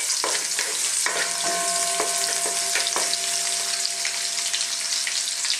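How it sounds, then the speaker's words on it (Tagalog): Ginger and garlic sautéing in hot oil in a wok, with a loud, dense, continuous sizzle and several metallic scrapes and taps of a spatula stirring against the wok. "Gisayin lang natin sandali."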